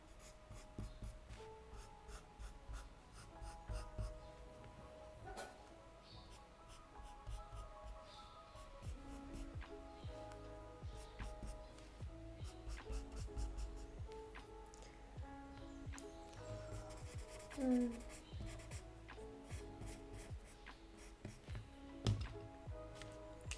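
Graphite pencil working over paper with very light pressure to render white fur, giving a faint, steady scratchy rubbing that shifts as strokes change, with soft taps and small pauses between strokes.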